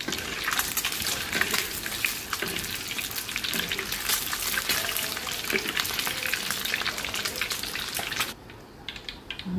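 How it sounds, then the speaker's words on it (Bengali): Eggs fry in hot oil with loud, close, crackling spatters and pops over a dense sizzle, which drops away abruptly near the end to sparse quieter crackles. "নামিয়ে ডিমগুলো ভেজে নিব"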